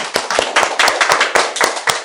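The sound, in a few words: class audience clapping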